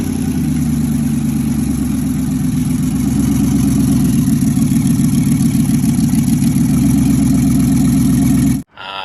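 A V8 in an LS-swapped Lexus IS300 idles loud and close through open headers, a rough, throbbing rumble with a lumpy pulsing rhythm that runs steadily before cutting out abruptly near the end.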